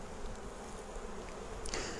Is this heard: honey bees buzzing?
yes